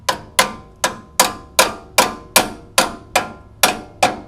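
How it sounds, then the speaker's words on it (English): A hammer taps a bolt back into its hole on a 1999-2007 Toyota Sequoia or Tundra front shock mount, about eleven sharp metallic strikes at an even, unhurried pace, loud and close with no speech. "So I'll start just by tapping with a hammer"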